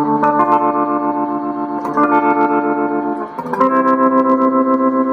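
A guitar runs through the wah effect of a Vox Stomplab 2G pedal with the pedal pressed down, giving sustained, bright, vocal-like chords that are re-struck a few times, loud and close with no speech.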